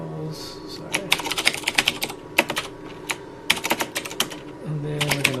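Bursts of computer keyboard typing while entering code, rapid clustered keystrokes in several runs with short pauses, fairly close and moderately loud, with faint background hum.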